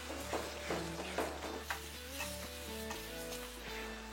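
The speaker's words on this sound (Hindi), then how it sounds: "अब हम इसको चम्मच चलाएंगे" Minced meat and tomatoes stirred with a spoon in a pan of spicy masala keema, giving a steady sizzle broken by several scraping strokes, close and moderately loud with no voices.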